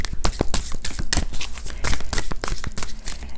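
Tarot cards are shuffled by hand during a reading, giving close, crisp crinkling riffles and sharp papery snaps in irregular bursts, loud and near with no talking over them.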